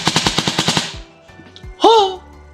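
An airsoft gun with a DSG gearbox fires a rapid burst of about eight sharp, snappy shots, then goes quiet before a short voice exclamation.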